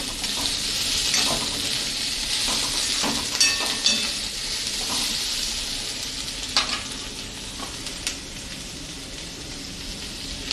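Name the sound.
spring roll filling spices sizzling in pan on low gas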